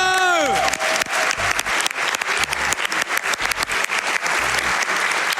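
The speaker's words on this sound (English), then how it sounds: "let's clap for him one more time" Live audience applause at the Summer Games Done Quick 2019 speedrun charity event, a steady loud crowd of clapping that follows a brief falling electronic tone and continues throughout.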